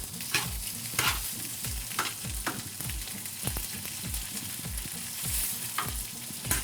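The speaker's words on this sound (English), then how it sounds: "And now we're going to give it a blast on a hot heat and mix everything up." Ingredients stirred and frying over high heat in a frying pan, with a steady sizzle broken by rhythmic scraping strokes of a utensil, close and moderately quiet with no voices.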